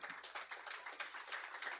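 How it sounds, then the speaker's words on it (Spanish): A church congregation clapping during a Spanish-language sermon, a quick burst of many hands heard faint and distant, with sharp pattering claps in an uneven rhythm. "¿Alguien le da un aplauso a Cristo, hermano?"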